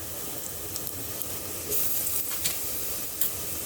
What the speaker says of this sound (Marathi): आता आपण यात आलं लसूण पेस्ट टाकणार आहोत